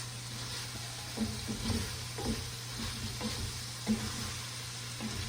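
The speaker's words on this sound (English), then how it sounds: "All right, let's give this a good stir." Eggplant sauce is stirred in a sizzling pan: a continuous fry hiss with soft spoon scrapes and knocks at irregular intervals, close and fairly quiet, with no voices.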